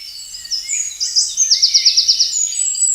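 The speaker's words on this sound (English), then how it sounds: "Now this bird, if you listen close," A bird sings alone in high, clear chirps and whistles, then breaks into a fast, rhythmic trill of repeated notes before returning to scattered calls, with a quiet background.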